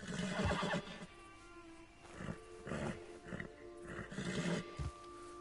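A horse in Red Dead Redemption 2 gives several loud whinnies and snorting bursts in rough succession, with some animal roaring mixed in over steady outdoor game ambience.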